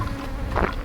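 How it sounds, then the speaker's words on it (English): Honeybees buzzing close by outdoors on a valley hiking trail, a brief continuous insect drone lasting under a second. "Well, those were honeybees."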